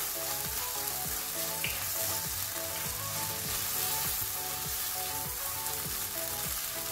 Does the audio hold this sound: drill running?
no